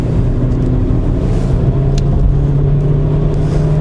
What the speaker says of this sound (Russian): до 120, до 130 просто на глазах машина разгоняется